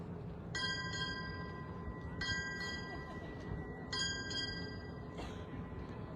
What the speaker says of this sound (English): Bell ring. Sound 6 bells.